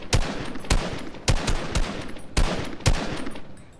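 Shotgun blasts in a video game firing somewhat at random, five loud sharp shots spaced irregularly about half a second apart, each with a short decaying tail.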